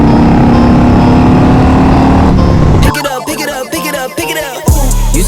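Harley-Davidson Road Glide 128 engine roaring on the road, a loud dense rumble for nearly three seconds that then gives way to rhythmic music with sharp beats and a voice.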